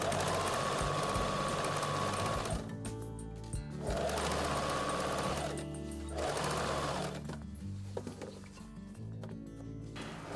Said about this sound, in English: it's quite easy to sew this on the sewing machine